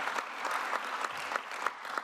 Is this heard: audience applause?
yes